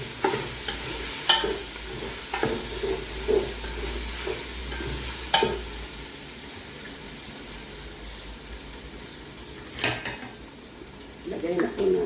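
Chicken frying in fresh oil in a pan, a steady hiss and sizzle running throughout with occasional clinks and scrapes of utensils against the cookware, no one speaking over it.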